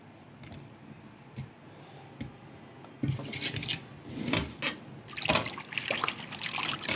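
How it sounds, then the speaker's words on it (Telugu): Gongura (sorrel) leaves washed by hand in water for a dal, faint trickles at first, then louder close splashing and swishing in uneven bursts. "గోంగూర కూడా కడిగి బాగా"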